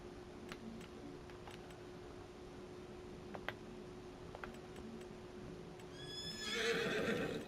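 A horse whinnies loudly near the end in Farming Simulator 25, preceded by sparse clicks and soft hoof clip-clops against a low steady hum.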